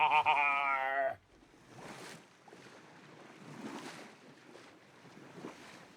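A sailing ship at sea, rendered as a sound effect: a brief tonal horn-like sound opens, then a soft, continuous wash of wind and waves rises and falls in the distance, without speech.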